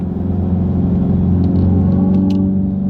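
A Dodge Charger EV driving in its louder sound mode gives off a steady, close, rumbling engine-like drone that holds constant without breaks.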